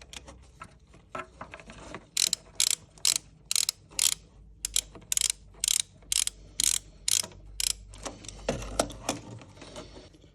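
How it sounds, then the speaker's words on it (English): Ratchet wrench tightening bolts on a Peugeot 208 GTI engine, a run of sharp, close clicking bursts in an even rhythm, ending with a few lower knocks. "we've got plenty of room to tighten the bolts into position"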